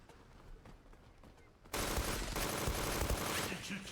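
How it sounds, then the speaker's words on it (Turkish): Gunfire from a Glock-style pistol in the online shooter game Zula, a dense burst of shots that starts abruptly partway through and stays loud to the end, after a quieter stretch of faint game sounds. "Yeni tabancayı da şöyle göstereyim. Bununla bir tane kill alayım size."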